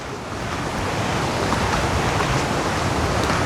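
Mountain river water flows in a steady, loud, broad rush that stays constant throughout, close by with no voices.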